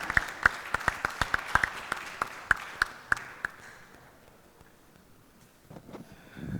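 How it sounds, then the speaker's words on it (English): Applause from a conference session audience, a burst of sharp individual claps standing out over the crowd for about three seconds, then thinning out and fading to near silence, with some rustling at the end. "Can we all give a huge round of applause"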